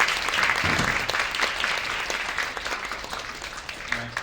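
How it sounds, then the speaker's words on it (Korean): An audience claps steadily after a talk on theatre and XR, a dense wash of applause that holds for several seconds and slowly thins out. "수고해주신 알렉스에게 좀 박수 부탁드리겠습니다."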